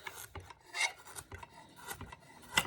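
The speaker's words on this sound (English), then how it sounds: "These little bitty carrots, I'm just going to cut them up into kind of like chunks." Knife cutting small carrots into chunks on a board gives a series of irregular, crisp chopping and scraping strokes, close and fairly quiet, with short pauses between cuts.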